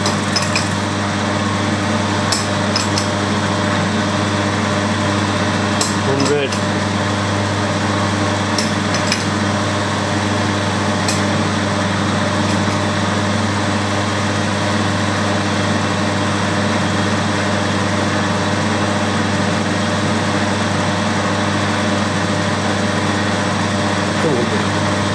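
A metalworking machine cuts steel while a dividing head is being made, giving a loud, steady droning hum throughout with a few faint ticks and knocks near the start.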